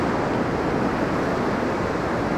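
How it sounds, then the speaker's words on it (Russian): Sea waves and surf on the Black Sea shore at Anapa in early December, a steady, continuous wash of breaking water with wind noise, loud and close throughout with no voices. "Сегодня просто посмотрим на море"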